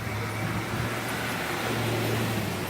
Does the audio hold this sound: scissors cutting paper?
no